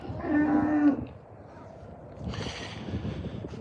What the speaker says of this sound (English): a lot of the cows are enjoying their time out in the middle yard area